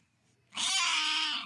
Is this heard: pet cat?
yes